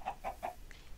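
A chicken in the Minecraft video game clucks three times in quick succession, followed by a fainter fourth note, moderately loud over a low game background.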